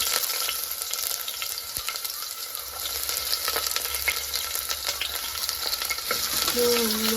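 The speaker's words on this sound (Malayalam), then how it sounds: "നമ്മൾ അതിലേക്ക് കറാമ്പൂരൊക്കെ ഇട്ടിട്ട് അതിൻ്റെ കൂടെ നമ്മൾ ഉള്ളി വെച്ചിട്ട്" Onions and cloves frying in hot oil for fish biryani, a dense continuous sizzle with scraping stirs and occasional clinks from the pan, close and steady throughout.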